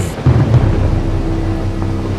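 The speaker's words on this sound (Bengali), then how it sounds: "লক্ষ্য করলাম বাইরে তুমুল ঝড় বৃষ্টি হচ্ছে" Heavy monsoon thunderstorm in a Bengal village, with a deep rumble of thunder rolling under steady pouring rain, loud and continuous throughout.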